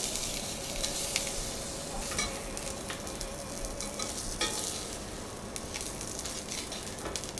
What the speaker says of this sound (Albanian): Nuk e lejmë të skuqet për tepër